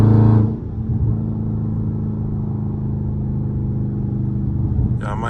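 A loud BMW 430i engine with supercharger rumbles deep and steady from inside the car with windows up, engine still cold, a heavy low drone that briefly swells at the start and stays constant.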